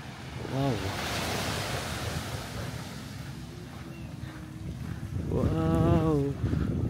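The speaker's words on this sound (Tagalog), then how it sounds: "Wow, sobrang kalmado ng dagat." Calm sea lapping the beachfront at Port Barton, Palawan, a soft steady wash of small waves with wind, while a person speaks briefly near the start and again near the end.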